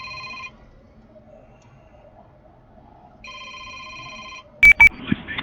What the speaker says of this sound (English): My phone's a ringing.